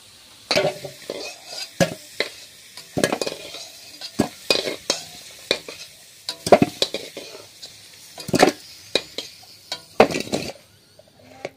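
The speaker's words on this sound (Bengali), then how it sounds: "কেটে রাখা আলুগুলো ভেজে নিয়েছি, তো লাল লাল করে ভাজা হয়ে গিয়েছে, এবার তুলে নিচ্ছি" Fried potato pieces are lifted from a hot pan of oil with a metal spatula while frying duck curry at home, giving a run of sharp scraping clinks and stirs over a low sizzle, close and irregular.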